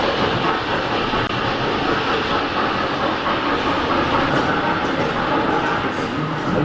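A small land tourist train rumbles along continuously with a steady rolling clatter and broad noise, close and fairly loud, with no clear pauses, touring in Mulhouse, France.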